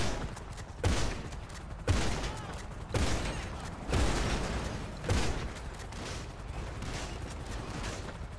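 Gunfire in GTA Online bursts out in five evenly spaced heavy blasts about a second apart, shooting at cars, each followed by a rumbling tail, with no talking.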